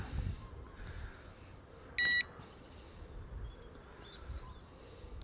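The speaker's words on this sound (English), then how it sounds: "Listen to the rods beeping away" A quiet lakeside carp-fishing setting with faint birdsong; an electronic rod bite alarm gives one loud burst of beeps, followed later by a fainter quick run of beeps.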